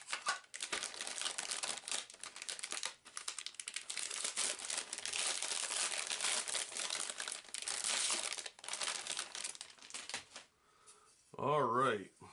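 A flimsy paper instruction sheet from a Link 4 board game rustles and crinkles as it is handled up close, the crisp papery noise running almost continuously with a voice speaking briefly.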